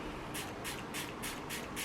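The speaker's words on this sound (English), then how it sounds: "and spray my blender. Make sure I get it wet enough to spread out my product." Several quick hissing sprays of setting spray from a pump bottle onto a makeup sponge, evenly spaced, close and fairly soft.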